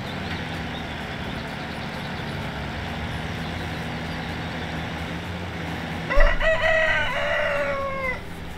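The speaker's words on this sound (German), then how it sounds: "Der Hahn vom Dienst." A rooster crows once in the farming video game Professional Farming, a loud, drawn-out call rising over a steady background hum of machinery and ambience.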